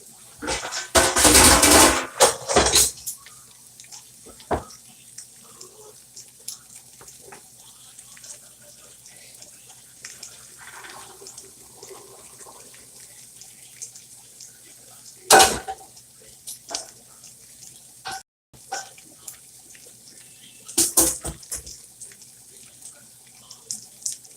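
Cooked ramen noodles strained under a kitchen tap, a loud burst of running water and splashing at the start, then faint clinks of pots and utensils with a few shorter water bursts, a voice talking at times.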